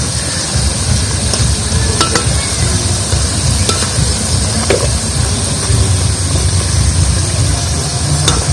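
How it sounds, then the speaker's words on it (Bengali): Stuffed potato-and-onion pitha made with flour fries in a pan of oil. A steady, dense sizzle runs throughout, with occasional clinks and scrapes as the pieces are turned. "আর এটা আমার ভালো করে ভাজা হয়ে গেছে। আর একটু উল্টে দিচ্ছে।"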